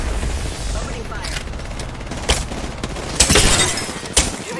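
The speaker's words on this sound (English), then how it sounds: "The enemies are shooting at me." Video game gunfire from a battle royale match, bursts of shots and sharp cracks mixed with impacts and a shattering hit, moderately loud over a busy game background.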